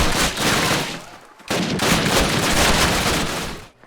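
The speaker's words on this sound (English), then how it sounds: "Martin, Elder, give me covering fire!" Dense covering gunfire from the Call of Duty video game, a loud, continuous rattle of overlapping rifle and machine-gun shots that breaks off briefly in the middle before resuming.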